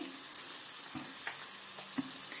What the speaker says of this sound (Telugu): దీంట్లోకి నాలుగు పచ్చిమిరపకాయలు వేసుకోండి కొంచెం సాల్ట్ వేయండి ఒక చిన్న కట్ట పుదీన కూడా వేసుకోండి కొంచెం కొత్తిమీర వేసుకోండి ఇవన్నీ కలిపి బాగా వేయించుకోవాలండి